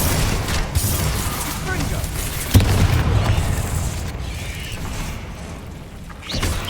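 Bombarda and Confringo spell explosions in Hogwarts Legacy, a booming blast near the middle amid dense, continuous combat rumble and effects, loud and close.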